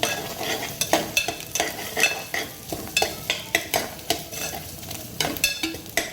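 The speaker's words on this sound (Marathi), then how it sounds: "त्याच्यामध्ये कांदा घालायचा आहे" Onion frying in a pan while a spoon stirs it, with a steady sizzle under regular, close scraping strokes against the metal.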